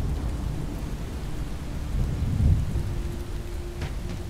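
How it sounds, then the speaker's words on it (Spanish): Thunderstorm over a swamp, with steady heavy rain hissing throughout and a low rumble of thunder swelling near the middle, loud and close with no voices. "Viejo, ¿sientes cómo cae la lluvia?"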